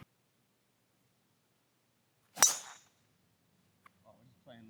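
A golf tee shot in Bishkek, Kyrgyzstan: a single sharp, close crack of club on ball stands out from near silence, followed by a couple of faint small sounds.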